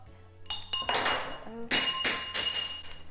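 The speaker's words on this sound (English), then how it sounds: "There goes my glass straw. Thankfully it didn't break." A glass straw drops and clinks against hard surfaces, with a few bright ringing impacts that bounce and settle over a few seconds.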